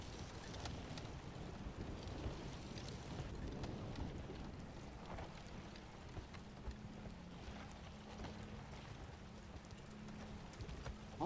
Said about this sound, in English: I'm not sure if it's those things or just the rain rattling on stuff.